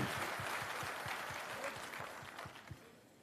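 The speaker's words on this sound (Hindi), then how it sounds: "अपने लिए जोरदार ताली बजाइए।" Audience at a Jan Suraaj digital wing state-level meeting applauding, a dense steady wash of clapping lasting throughout, moderately distant and fairly faint, with no talk over it.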